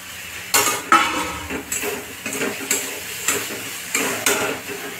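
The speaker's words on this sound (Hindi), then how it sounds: "अब इसमें टमाटर डालेंगे," Tomatoes go into a pan of cooking bottle gourd and masala and are stirred, a spoon scraping and clinking against the metal in repeated strokes roughly every half second, close and clear over a faint sizzle.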